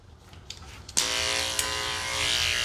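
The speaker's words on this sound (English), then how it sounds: "here shaving her face, I'm gonna hold her ear back" Electric clippers switch on with a steady buzzing hum and run continuously while shaving a miniature poodle's face during a full groom, close and fairly loud after a brief quiet start.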